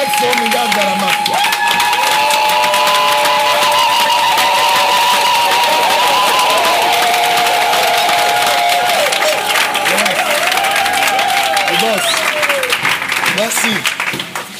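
A church congregation cheers and applauds in acclaim of Jesus Christ, sustained loud clapping and shouting from a large crowd, with a voice and musical tones running over it the whole time.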